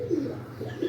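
Pigeons coo softly in low, rounded pulses on a rainy morning, a couple of gentle calls close by with no one speaking.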